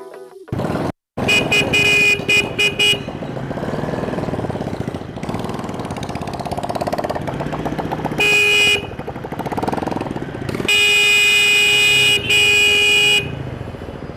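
Car horns honk repeatedly in busy road traffic, sharp overlapping toots and longer blasts over a constant engine and traffic rumble, loud and close.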